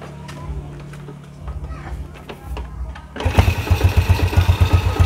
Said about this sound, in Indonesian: Jadi kita hidupkan sekarang motor ya